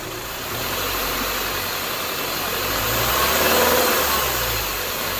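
A Subaru engine runs steadily at about 2,000 RPM with the air-conditioning compressor engaged during AC charging, a continuous close mid-pitched drone with a slight rise in intensity partway through and no speech.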